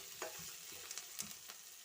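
Onions frying in oil in a pan for egg sukka, a steady soft sizzle broken by a few light scrapes of stirring, fairly quiet and without any talk.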